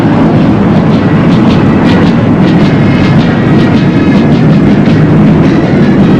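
Military aircraft passing over a national military parade celebration, a loud, continuous engine roar that fills the scene with no talking.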